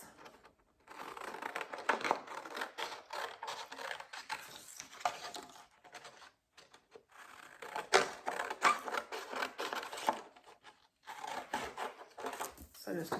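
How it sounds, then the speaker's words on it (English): Scissors cut a paper house shape out along its outside lines, giving repeated crisp snipping and rustling in bursts separated by short pauses, close and fairly quiet. "So just a quick cut along the outside edges."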